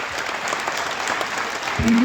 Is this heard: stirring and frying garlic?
no